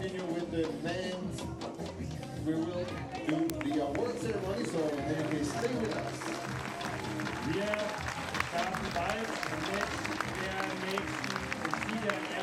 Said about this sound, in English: good, respectful applause from the German crowd